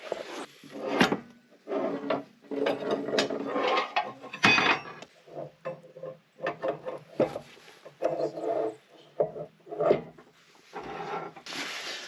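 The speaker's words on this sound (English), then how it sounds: "I'm gonna pull this rod and slide this old clamp off and put this new one on" An old log clamp is slid off the rod of a Woodland HM122 sawmill, producing bursts of metallic scraping, ratcheting and clunking with brief pauses between them, close and moderately loud, with no speech.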